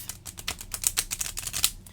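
Rapid crisp clicking and riffling of stiff, new tarot-style oracle cards being shuffled, a steady run of light snaps with a few sharper flicks, close up and alone.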